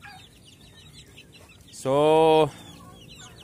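A chicken clucking near a turkey brood on a farm, one loud drawn-out call close by, with someone talking quietly before and after it.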